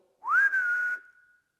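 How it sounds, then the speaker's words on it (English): A single clear whistle that slides upward, then holds a steady tone for about a second before fading out, alone against silence. "Or even whistle."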